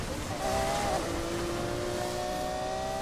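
A modified car's engine in the racing game NFS Heat holds a steady, loud drone with a rising whine of revs, heard alone and without talk.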